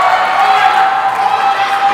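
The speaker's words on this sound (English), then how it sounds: "Crowd yelling for her to call it off." Roller derby crowd yelling and cheering in a sustained, steady roar of many voices, loud and continuous throughout without any break or lull.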